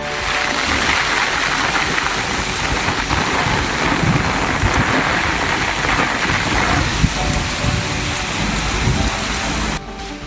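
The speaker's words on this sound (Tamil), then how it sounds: "சுமார் 30 நிமிடத்திற்கு மேலாக கனமழை கொட்டி தீர்த்தது" Heavy summer rain pours down steadily in a dense, loud hiss of drops on surfaces, with a low rumble underneath, then cuts off abruptly at the end.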